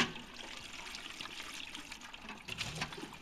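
Running water pours into a clean bucket in a pottery workshop while a glaze is being mixed, making a steady, moderately loud rushing splash with no voices.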